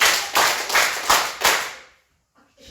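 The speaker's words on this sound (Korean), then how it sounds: "다른 건 안 하고 박수 5번 쳐볼게요." At a church Bible seminar, a congregation claps in unison exactly five times, each sharp, crisp clap evenly spaced, followed by a near-silent pause with a faint murmur.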